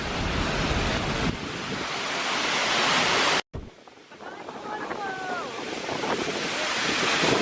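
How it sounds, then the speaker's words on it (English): Roaring Icelandic waterfall heard close up as a dense, steady broadband rush with wind buffeting the microphone, briefly cut off by a short gap midway, then resuming slightly softer with a faint whistling tone. "The waterfall's just behind me."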